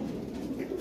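Lahori pigeons giving a soft, low cooing, brief and fairly faint, with no voices.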